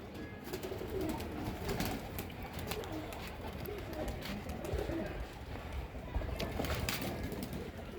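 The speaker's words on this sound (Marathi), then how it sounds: "ब्रीडिंगचे कबूतर आहेत." Breeding pigeons coo in soft, repeated throaty murmurs over a busy background of fluttering and scuffling, with several birds close together.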